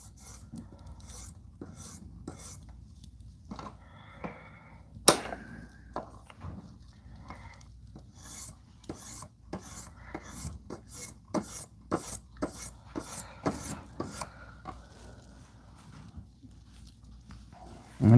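A utility knife being sharpened on a 1500 grit whetstone, with a long run of rhythmic rasping strokes, sparse at first and then quicker and steady, close and distinct in a quiet room, with a sharp knock partway through.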